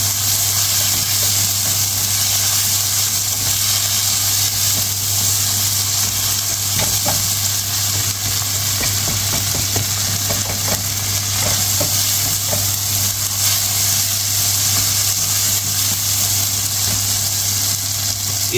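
Ginger garlic paste sizzles steadily in an oil-filled pan for black pepper chickpeas, with a constant loud frying hiss and a few scattered stirring clicks and scrapes, no talking.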